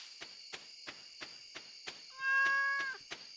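A cat meows once in the video game Stardew Valley, clear and close, over a quiet backdrop of evenly spaced ticking insect-like chirps and a steady high-pitched tone.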